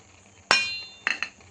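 A metal lid clanks down onto a cooking pan of egg Maggi on the stove, one sharp ringing hit followed by two quicker lighter clinks, close up.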